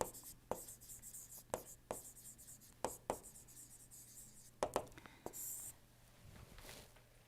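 Chalk or pen writing on a board during an engineering lecture on heat transfer and steam superheaters, sharp scratchy strokes in irregular bursts over a quiet room, with faint whispering.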